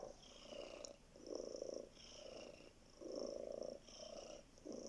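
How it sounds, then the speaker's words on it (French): A sleeping cat purrs close up in steady, rhythmic waves, each breath in and out a rumbling pulse, about five cycles with no other sound. "écoutons notre chat ronronner et imprégnons-nous de ces vibrations qui nous relaxent"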